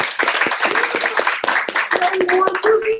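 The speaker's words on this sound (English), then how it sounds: "Round of applause for Ben." A small meetup audience applauds with scattered, distinct hand claps and a few sharp close claps, while a voice talks over them near the end.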